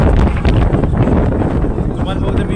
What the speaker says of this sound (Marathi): आता या ठिकाणी खूप वारा आहे